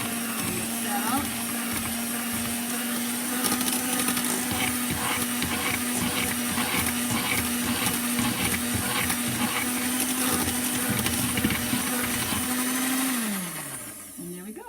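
Electric mixer whipping mashed potatoes with a splash of homemade vegan oat milk, a steady high motor whine running for over ten seconds before winding down at the end.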